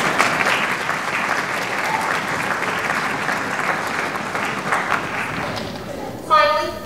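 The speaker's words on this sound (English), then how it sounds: "So let's give the parents a round of applause." An audience at a high school all-district band concert applauds the students' parents with steady, full clapping that carries on for several seconds before a speaker's voice returns at the end.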